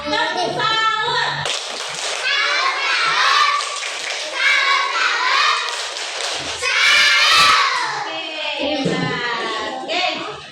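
A classroom of children claps in rhythm for a pupil named Paisa, loud bursts of clapping mixed with kids' voices and chatter throughout.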